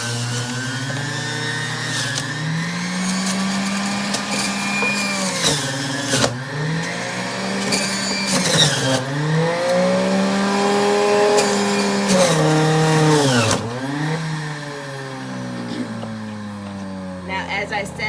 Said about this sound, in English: put the celery in the juicer